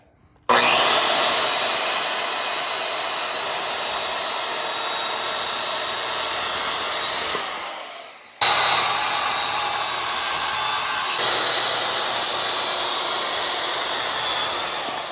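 A power saw cuts steadily through wood with a loud, sustained whine, pausing briefly before a second long cut.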